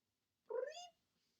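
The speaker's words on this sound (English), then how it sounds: "That's our cat." A house cat gives one short, clear meow, close and distinct against near silence.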